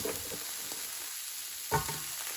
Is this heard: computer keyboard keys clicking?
no